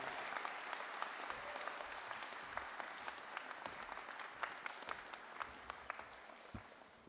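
Audience applause at a university graduation ceremony, steady distant clapping from a large crowd with sharp individual claps standing out, gradually thinning, with no talk.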